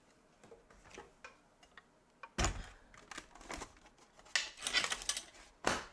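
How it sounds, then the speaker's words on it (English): A cut and emboss machine feeding paper through an embossing folder, cranked by hand, gives uneven ticking, clicking and grinding bursts that grow louder and denser toward the end, with no talking. "So let me bring in my cut and emboss machine."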